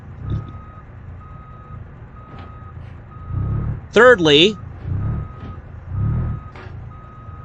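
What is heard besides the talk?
truck reversing beeps in BeamNG.Drive video game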